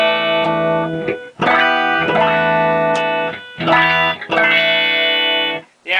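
Electric guitar with standard Stratocaster wiring, played clean through an amp: strummed chords ring out in several bursts with brief gaps, loud and alone.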